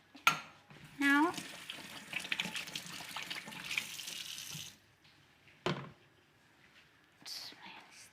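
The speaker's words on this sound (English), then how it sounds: "So I'm going to just wash my hand." Kitchen tap running while hands are washed after cooking roast potatoes, a steady splashing stream for several seconds with squeaky handling, then stopping, followed by brief bursts of water.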